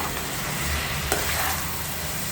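Chicken with freshly ground masala stirred in a kadai, making a steady close sizzle with soft scraping of the spoon. There is one brief clack partway through.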